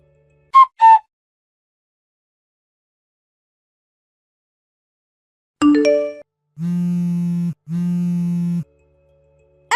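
Two quick electronic chirps, then an Apple phone rings with two long, steady buzzing tones, clear and close, with no talking.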